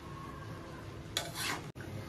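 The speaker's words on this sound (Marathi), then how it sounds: "आता आपण हे चांगलं मिक्स करून घेऊया." Grated carrots being stirred in ghee for gajar halwa, a soft steady scraping and rubbing in the pan with a brief brighter sizzling swirl partway through, then a sharp cut and quieter stirring.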